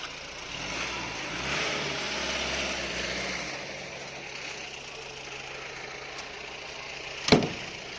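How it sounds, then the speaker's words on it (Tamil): A Mahindra Bolero's engine hums steadily at medium distance, swelling slightly and then settling, with a brief sharp clunk near the end. "இது அந்த வண்டி தான் வந்துச்சு பாருங்க அந்த பொலிரோ"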